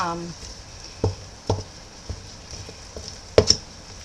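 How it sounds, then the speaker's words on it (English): A spoon stirs Hungarian dumpling dough made with two whole large brown eggs in a bowl, giving a few scattered knocks and soft scrapes against the side over quiet background, with a brief voice at the start. "So I'm going to keep stirring that around"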